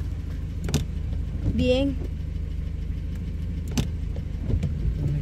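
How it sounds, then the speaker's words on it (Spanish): Cars pass by on a road, a low continuous rumble with a couple of brief louder swells, under a short spoken word. "Pasado carros."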